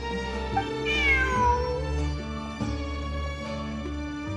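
A cat in a video game lets out a clear, rising-then-falling meow over a steady bed of game music, followed by fainter softer mews.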